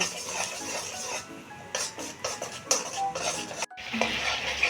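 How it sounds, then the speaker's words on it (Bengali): Onion paste frying in oil over medium heat for a home-style Bengali egg curry, with steady sizzle and spoon scraping and clinking against the pan, up close with no talking. "গ্যাসটা মিডিয়ামে রেখে দু মিনিটের মতো কষিয়ে নেব"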